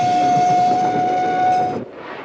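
A moving train serves as a sound effect in a Christmas crime radio drama: a loud, steady rolling rumble with a sustained whistle-like tone that cuts off abruptly near the end.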